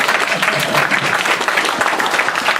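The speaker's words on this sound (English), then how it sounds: "So that's an applause for yourself." A crowd at a pony fan convention claps in a continuous, lively burst of applause, fairly close and full, with no talking over it.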